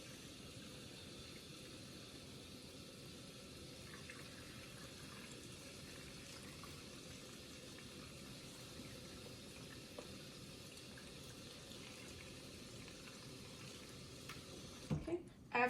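Warm water runs steadily from a sink tap into an enema bag, a faint continuous hiss and trickle, ending with a few handling clunks.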